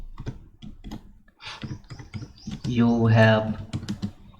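Someone taps out Python code on a computer keyboard with quick, close clicks scattered under someone speaking Hindi mixed with English, the keystrokes heard between and beneath his words.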